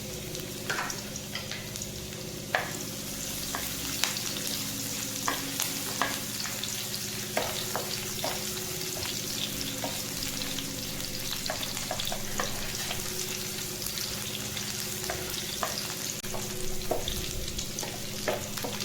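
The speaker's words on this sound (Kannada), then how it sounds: "ಬೆಳ್ಳುಳ್ಳಿ ಸಿಪ್ಪೆ ತೆಗ್ದಿಲ್ಲ ಹಂಗೆ ಜಜ್ಜಿಕೊಂಡಿದ್ದೀನಿ ಅದನ್ನು ಫ್ರೈ ಮಾಡ್ಕೊತೀನಿ" Crushed, unpeeled garlic cloves fry in hot oil with a steady, dense sizzle and scattered crackling pops, close and continuous throughout with no voices.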